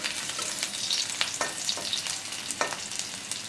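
Onions turning brown fry in a pan for Bengali masoor dal, sizzling steadily while a spatula stirs them with repeated light scrapes, close and moderately loud.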